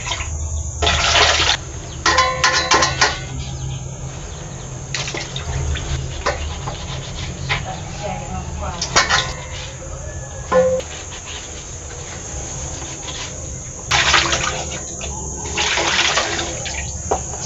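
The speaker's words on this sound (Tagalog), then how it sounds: "iniipon ko ang tubig kasi pandilig namin ito sa aming mga halaman" Water running steadily into a container to collect it for watering plants in a rural Philippine home, a continuous rushing pour with brief louder surges, heard alone with insects chirping around it.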